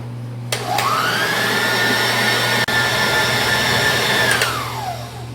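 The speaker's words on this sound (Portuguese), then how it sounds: "Agora iremos bater." An electric mixer whirs up to a steady high-pitched whine as it beats milk-powder cake batter with vanilla, runs evenly for several seconds with one brief dip, then winds down.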